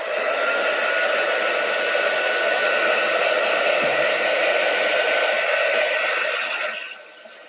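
A hair dryer blows on chalk paste spread over a Pen+Gear kraft spiral notebook, a loud, steady whirring roar that holds for about seven seconds before cutting off.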